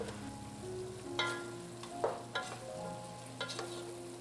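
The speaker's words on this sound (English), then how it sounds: "Saute briefly and add the broccoli." Squid, shrimp and broccoli sizzle and fry in a hot wok, with several sharp scraping stirs of a spatula against the metal over a low hum.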